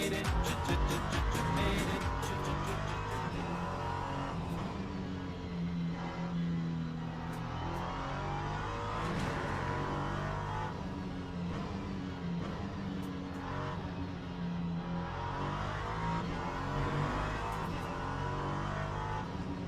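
An LMP3 prototype race car in a racing video game laps Fuji Speedway, its engine droning loud and continuous, rising and falling through gear changes as it sweeps a long right-hand corner, with no talking over it.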